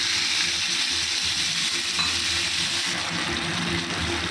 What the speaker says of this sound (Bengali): তো এই সময় আমি একটু এতে দিয়ে দেবো জল